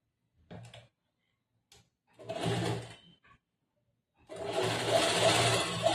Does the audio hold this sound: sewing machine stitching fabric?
yes